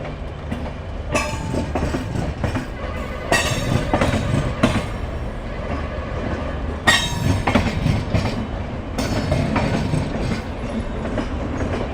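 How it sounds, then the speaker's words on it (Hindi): A long passenger train, running from Ferozepur toward Dhanbad, rolls slowly along the rails. A steady heavy rumble carries rhythmic clickety-clack wheel beats and occasional louder metallic knocks, heard from inside without speech. "हमारी ट्रेन बहुत ही धीमी गति से आगे बढ़ रही है"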